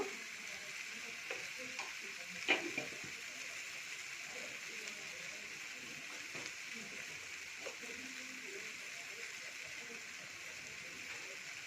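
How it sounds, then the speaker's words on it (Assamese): Spices fry in a pan for a paneer dish, a steady soft sizzle with occasional light clinks of stirring, close and constant. "এইখিনি অকণমান ফ্ৰাই কৰি, বেছি ফ্ৰাই কৰিব নালাগে।"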